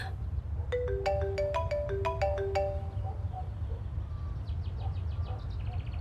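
A mobile phone ringtone plays a short melodic tune of repeated bright electronic notes over low background rumble, lasting a few seconds before fading into faint chirpy sounds.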